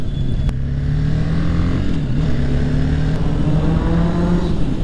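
A classic Japanese Suzuki motorcycle engine runs loud and close, holding a steady drone with a slight rise and dip in pitch.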